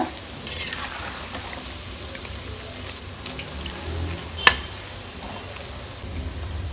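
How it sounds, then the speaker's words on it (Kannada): Bitter gourd chips deep frying in hot oil, giving a steady, even bubbling sizzle with faint crackles and one sharp pop partway through, heard alone without talk. "ಈ ದೊಡ್ಡ ದೊಡ್ಡ ಬಬಲ್ಸ್ ಎಲ್ಲ ಕಡಿಮೆ ಆಗಬೇಕು, ಆವಾಗ ಕ್ರಿಸ್ಪಿಯಾಗಿ ಆಗಿದೆ ಅಂತ ಅರ್ಥ."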